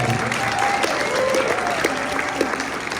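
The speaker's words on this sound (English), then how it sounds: "let's give a big round of applause to Northern Arizona Indivisible for putting on this event" A town hall crowd applauds steadily, a dense continuous wash of clapping that holds at an even level throughout, with faint voices mixed underneath.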